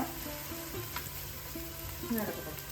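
Ingredients for a fish curry fry in a pan with a steady close sizzle and occasional stirring scrapes, a faint low hum underneath and a brief stir-like clatter near the end.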